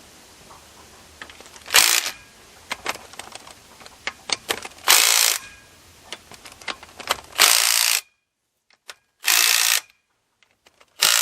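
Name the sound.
wrench tightening Subaru FB20/FA20 cylinder head bolts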